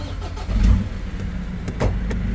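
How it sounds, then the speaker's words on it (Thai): A 2017 Ford Ranger 2.2 pickup truck engine runs steadily up close, a low rumble with a brief louder surge partway through, no talking. "เดี๋ยวมาฟังเสียงเครื่องยนต์กันฮะ"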